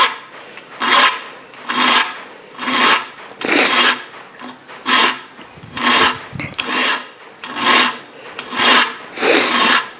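A small bastard file rasps across a cold-forged arrowhead made from a spoon in about ten steady, evenly spaced strokes, each a close, loud grating pass followed by a short pause.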